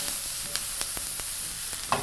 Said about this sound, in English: Right, so back to our tripe. It's now frying up.